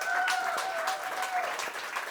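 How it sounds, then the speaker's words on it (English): Audience applause at a live show, steady clapping filling the room for a couple of seconds, with faint sustained tones running underneath. "I'd like you to give a round of applause to Ashlyn."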